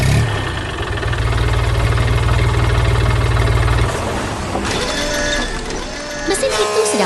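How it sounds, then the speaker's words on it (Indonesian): A machine engine runs steadily while hauling large logs and tree trunks through a forest, a loud, low, continuous drone for several seconds before it shifts and other mechanical clatter takes over. "Mesin itu sedang membawa kayu besar dan batang pohon."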